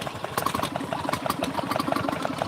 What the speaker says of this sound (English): We've got some lovely stationary engines doing their thing over here.